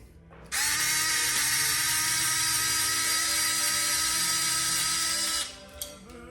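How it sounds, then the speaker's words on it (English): A screwdriver backs a screw out of a toilet paper holder mounted on a wall, giving one steady, high whirring spin of about five seconds that starts and stops abruptly, close up and with no talking. "So I get the screwdriver and spin it out."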